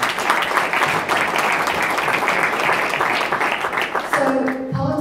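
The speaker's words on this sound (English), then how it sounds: "Big clap!" Sustained applause from a charity gathering celebrating money raised for donation, steady dense clapping filling the room for several seconds before a voice begins speaking near the end.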